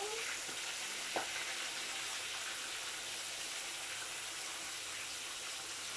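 Steady, dense sizzle of hot oil frying fish in a pan. It continues evenly for several seconds, with one faint clink early on and no speech.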